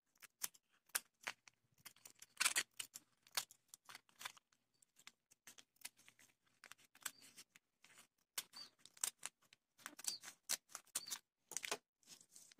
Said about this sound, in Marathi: आता हे जे एक्स्ट्रा आहे ते आपण कापून टाकूया।